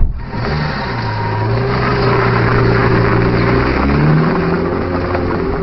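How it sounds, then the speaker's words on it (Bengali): A car engine revs and pulls away in a dramatized audiobook scene, a steady, loud motor drone with a shifting low hum that holds throughout without speech. "ডাক্তার গাড়িতে গিয়ে উঠলেন। গাড়ি চলে গেল।"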